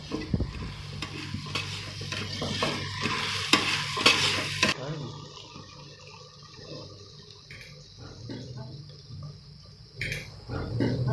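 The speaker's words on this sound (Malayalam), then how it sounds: "ഒരു 4 സവാള കട്ട് ചെയ്തതും ചേർത്ത് കൂടെ കുറച്ച് ഉപ്പ് കൂടി ആഡ് ചെയ്ത് വഴറ്റിയെടുക്കാം" Sliced onions with salt sautéing in a pan for dum biryani, a busy close sizzle with repeated spatula scrapes that drops to a quieter, sparser frying with occasional stirring clatter.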